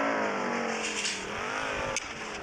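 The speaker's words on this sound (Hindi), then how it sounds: "चले इतनी महंगी गाड़ी अंदर आ गई है" Engine of a car in a video game revving with a steady, droning tone that holds throughout, loud and alone with no talking.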